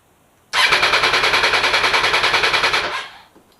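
An MV Agusta F3 motorcycle engine is cranked on its starter without firing, with the fuse pulled, to prime the oil after an oil change. Loud, close, rapid rhythmic churning pulses run steadily for about two and a half seconds, then stop, with no talking.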